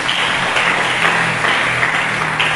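A church congregation applauds for Jesus during a sermon, a dense, steady wash of many hands clapping together, moderately loud and sustained without letting up.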